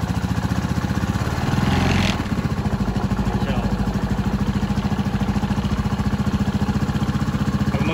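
A Rusi Macho 175 motorcycle engine idling close by, a loud steady rapid putter with a brief rise in revs around two seconds, then settling back into an even idle.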